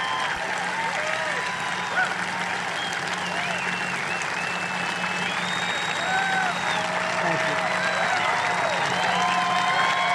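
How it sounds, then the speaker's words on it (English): An audience at a Trump speech applauds steadily, a sustained wash of clapping with scattered cheers and whistles, heard from a distance at moderate volume for about ten seconds. "That's what gets the applause?"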